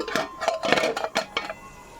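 A metal lid lifted off a pot of fresh fish cooking with poppy seeds, giving several close, light clinks and taps of metal on metal in quick succession, with no talk.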